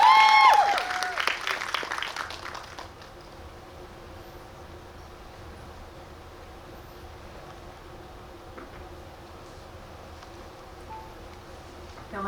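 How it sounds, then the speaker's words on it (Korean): An audience in a Megabox COEX cinema hall welcomes two guests after a film screening, bursting into close, fairly loud clapping that fades out within a few seconds and leaves quiet room tone. "두 분의 게스트를 큰 박수로 환영해 주시기 바랍니다."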